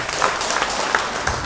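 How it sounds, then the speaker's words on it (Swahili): Audience clapping at a burial gathering: a short, dense, steady patter of many hands at moderate volume, with no voices standing out. "Tupigieni hao watu wote makofi"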